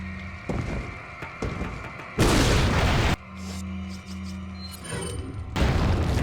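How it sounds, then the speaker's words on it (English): A barrel blown up by a grenade in Resident Evil 4 makes a loud, heavy booming explosion, followed by a rumbling lull and then a second strong blast. "I might as well use that extra grenade I just got."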